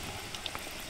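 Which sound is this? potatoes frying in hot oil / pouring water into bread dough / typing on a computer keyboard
potatoes frying in hot oil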